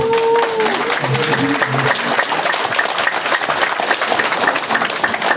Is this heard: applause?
yes